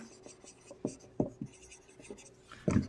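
Marker or chalk writing out a definition on a classroom board during a chemistry lesson, a run of short scratchy strokes and taps in uneven rhythm, close and fairly clear, with no talking.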